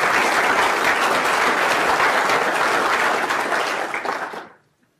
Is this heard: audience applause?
yes